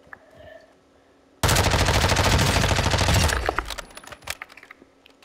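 Rapid automatic gunfire from a weapon in the video game Warzone rattles out in one loud, sustained burst of about two seconds, then tapers into scattered clicks and softer shots.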